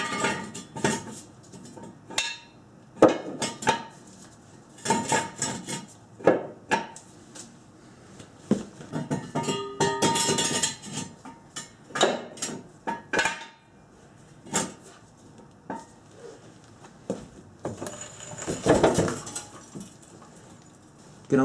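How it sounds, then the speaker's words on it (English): Metal jack stands clank and scrape into place under a car's pinch welds during an oil change, a series of irregular close metallic knocks and rattles separated by short pauses. "I'm going to put the jack stands at these pinch welds on each side"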